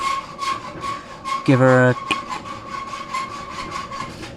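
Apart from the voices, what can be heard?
cutting rubber engine mount on Land Rover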